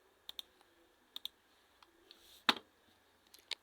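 Light, quiet clicks of keys being typed on a computer keyboard during poster design work, coming in short sparse bursts with one sharper louder tap midway and soft gaps between.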